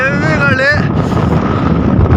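Strong wind blowing across a hilltop in Coorg, buffeting the microphone with a loud, continuous roar right after a brief sung or shouted vocal note.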